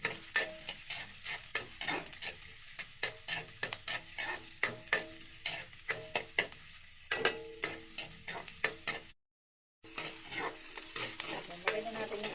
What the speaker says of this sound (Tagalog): Gigisa lang tayo ng sibuyas at saka bawang.